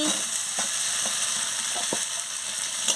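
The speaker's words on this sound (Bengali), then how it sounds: "আলু আর পটলটা কষানো হয়ে গেছে আলু আর পটলটা দিয়ে দিচ্ছি" Potato and pointed gourd fry in a pan with a steady, close sizzling hiss and a few faint stirring clicks.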